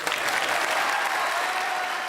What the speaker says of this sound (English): I think Jimmy deserves an extra round of applause